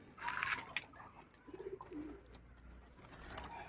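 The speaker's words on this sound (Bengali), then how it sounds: "চেন্নাই লাইনের চোখের পায়রার বাচ্চাই দুটো, ডগুদার ঘর থেকে নেওয়া।" Two baby pigeons coo softly, their low throaty calls faint and intermittent over a noisy background.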